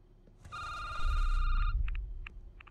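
A telephone ringing in an indie security-booth horror game, one sustained electronic ring followed by short repeated chirps, clear and up close over a low rumble.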